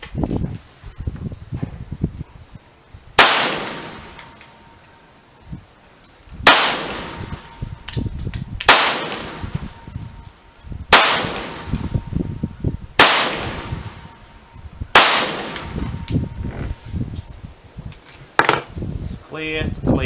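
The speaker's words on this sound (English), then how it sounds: "So we'll see the drop in speed from firing through the handgun." Six loud handgun shots are fired through a chronograph outdoors, each a sharp crack with a decaying echo, spaced a few seconds apart, with faint rustling and handling noise between them.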